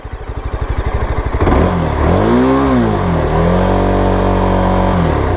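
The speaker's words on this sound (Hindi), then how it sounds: "ऐसा लग रहा है कि इंजन कट ऑफ हो रहा है।" Yezdi Scrambler motorcycle engine idling with a rapid pulsing thump that builds, then shifts into a steady, loud drone with a wavering pitch as the engine falters and cuts off, close up and alone without voices.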